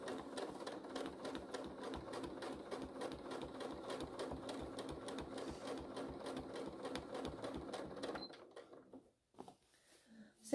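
Sewing machine doing free motion couching, stitching wool onto fabric, chatters in a fast steady rhythm for about eight seconds, close and clear, then stops, leaving near silence.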